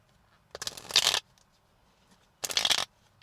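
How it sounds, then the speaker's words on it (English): Tarot cards are shuffled in two separate quick, crisp riffles, each under a second long and close by, with near silence between them. "The cards do not want to shuffle."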